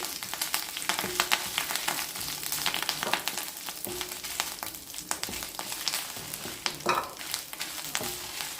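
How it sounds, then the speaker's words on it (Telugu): Curry leaves crackle and spit as they fry in a pan with flaxseeds and spices, a dense, steady sizzle broken by sharp pops and the scrape of stirring, close by with no voices. "కరివేపాకు కూడా చక్కగా తిటపట ఉంటుంది"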